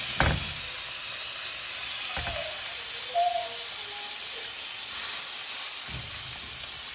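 Ribeye steak searing in a pan over high heat, giving a steady bright hiss throughout with a few soft low knocks now and then.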